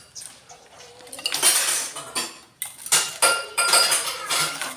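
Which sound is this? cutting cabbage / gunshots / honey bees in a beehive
cutting cabbage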